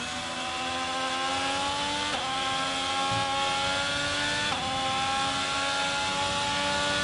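A Ferrari-engined Formula 1 car in the video game F1 22 drones at steady high revs, pitch climbing then dropping sharply twice as gears shift, loud and continuous with no talking.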